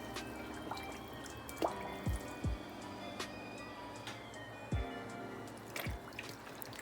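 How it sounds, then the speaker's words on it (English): Water running into a kitchen sink to soak fabric for tie-dyeing jeans, quiet trickling and dripping with a few close plopping splashes at irregular intervals. "I'm just going ahead and put some water in my kitchen sink, and I'm just treating the fabric"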